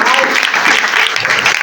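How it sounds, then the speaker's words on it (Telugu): Guests at a wedding clap together in a loud, dense, continuous burst of applause, with voices mixed in underneath. "చప్పట్లు కొట్టండి అందరూ."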